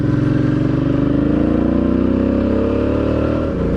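A motorbike climbs a road toward Lamington National Park, its engine droning steadily and close throughout with a slowly rising pitch as it pulls uphill, loud and continuous with no talking.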